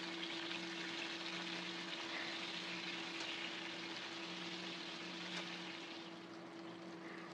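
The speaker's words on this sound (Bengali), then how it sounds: "আমি কিছু সময় অপেক্ষা করে এবার এটাকে উল্টে দিচ্ছি" Fish frying in oil in a pan, a faint continuous sizzle over a steady electrical hum, with a couple of light clicks as the pieces are turned over.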